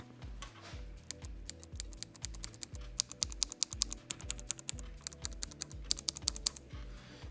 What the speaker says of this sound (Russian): И вы послушайте вот этот вот звук кнопок.